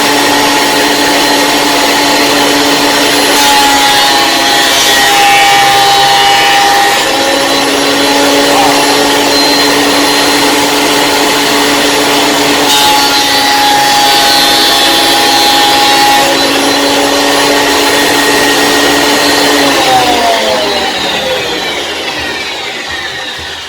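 A WEN 6550T benchtop planer runs loud and steady as it planes a board, a constant motor whine with a whirring cutter roar, holding for about twenty seconds before winding down at the end.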